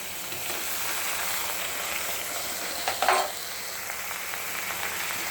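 Diced cucumber and tomato stirred into a sizzling curry base with ginger paste; a constant close hiss of frying with one brief scrape of stirring partway through.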